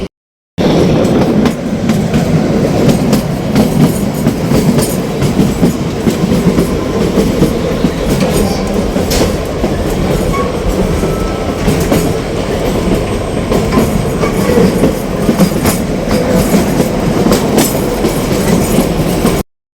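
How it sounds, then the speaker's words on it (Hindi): The Kalka–Shimla toy train runs steadily on its way toward Shimla, its wheels giving a loud, continuous clickety-clack and rumble from start to finish with no talking. "और 12:10 पे चली है आपकी टॉय ट्रेन कालका से शिमला की तरफ।"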